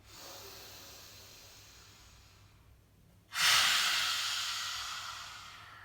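A quiet inhale through the nose is followed by a loud, forceful open-mouthed exhale with the tongue out, a breathy rushing burst that slowly fades over a couple of seconds.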